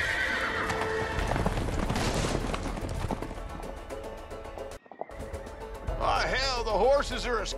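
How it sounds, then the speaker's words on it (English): Horses in the video game A Way Out neigh loudly and gallop with steady clip-clopping hooves, a long whinny rising near the end over busy game sound, with voices talking. "Horses are escaping, honey."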